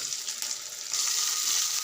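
Cinnamon, cloves, fennel seeds and onion frying in hot oil in a pan, a close, loud sizzle that crackles and jumps up sharply partway through, with no talking.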